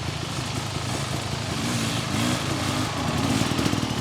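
A 2025 Beta XTrainer dirt bike engine running close by at an off-road trail, with a loud steady buzzing drone that rises slightly toward the end, and no talking.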